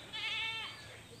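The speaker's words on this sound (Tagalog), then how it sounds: "Ito yung ating mga kambing, oh." A single goat gives one close, wavering bleat about a second long, clear and alone, with faint livestock background.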